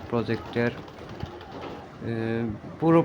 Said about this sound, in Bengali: আমাদের বাহিরে কিছু কবুতর রেখেছি, কবুতরগুলা বাহিরে খোলামেলা পরিবেশে বড় হচ্ছে